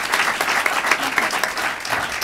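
Audience applause at a talk on expanding substance abuse treatment: a dense, steady wash of many hands clapping, fairly loud and sustained for the whole stretch with no speech over it.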